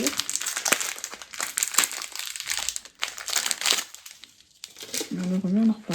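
Plastic packaging on 3D printer parts crinkles and rustles in several bursts, close and fairly loud, with a person's voice briefly heard near the end.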